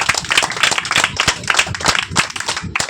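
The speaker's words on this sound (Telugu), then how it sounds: "కొట్టు చప్పట్లో." Congregation clapping hands at a Telugu church fasting festival service, a dense rhythmic patter of many palms struck together, steady and fairly loud throughout, with no voices over it.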